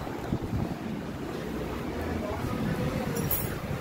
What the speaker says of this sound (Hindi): ठंडी ठंडी हवाएं चल रही हैं